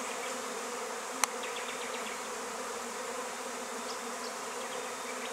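Honey bees buzz in a continuous low drone around a pile of bees at an apiary, with a few faint chirps and a sharp click partway through.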